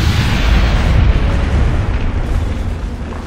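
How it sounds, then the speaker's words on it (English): Bombs detonating in the real-time strategy game Halo Wars, a continuous loud, deep rumbling blast that rolls on for several seconds without a break, heavy in the low end and close. "Bombs out."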